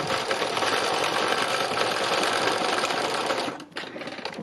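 A sewing machine stitches flower shapes in a steady, fast, close mechanical whir that runs continuously before briefly pausing near the end and then resuming.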